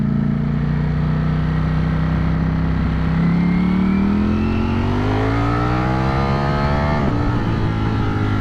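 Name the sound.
Ducati Streetfighter V4S motorcycle engine accelerating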